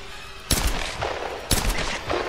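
Two bursts of in-game gunfire from the Tomb Raider video game, each a loud sharp shot at roughly one-second spacing with a ringing tail, standing alone without talk.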